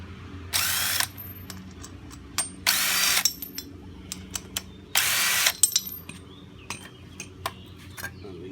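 Bolts driven into the aluminum casting of a Craftsman 42-inch mower deck: three loud, close whirring bursts of a power tool, each about half a second long, separated by scattered metallic clicks and taps.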